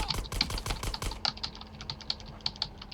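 Rapid clicking of computer keys, a dense burst of fast typing followed by slower, scattered keystrokes, close and fairly quiet.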